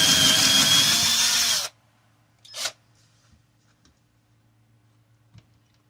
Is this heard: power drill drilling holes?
yes